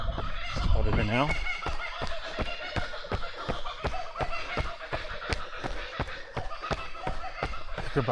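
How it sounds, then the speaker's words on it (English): A kookaburra gives its laughing call in a forested conservation park. The call rises and falls early on, then continues under steady rhythmic running footsteps and a faint voice. "Kookaburra's laughing at me,"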